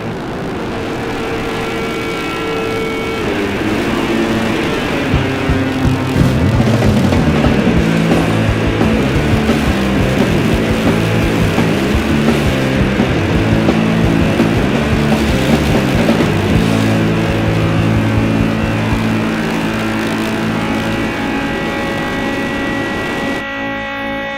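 Motorcycles race laps around a sand beach oval, their engines making a loud, continuous roar with shifting, rising and falling pitches as several bikes pass.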